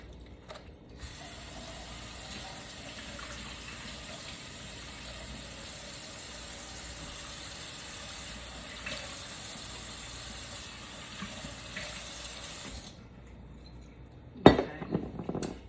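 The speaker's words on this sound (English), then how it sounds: "wash my bottle off" Tap water runs steadily over a Worcestershire sauce bottle being rinsed, a close continuous hiss with faint handling clinks, then the flow stops and a sharp knock follows.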